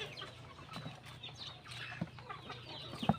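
Pet backyard chickens cluck softly and intermittently close by, with a few sharper fowl calls near the end over a low background hum.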